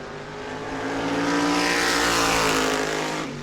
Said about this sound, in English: Jerry Simons going to come off the corner.